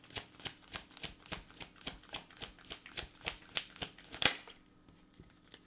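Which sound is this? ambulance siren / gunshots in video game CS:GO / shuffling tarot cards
shuffling tarot cards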